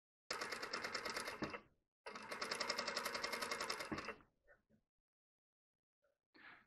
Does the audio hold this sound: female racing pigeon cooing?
no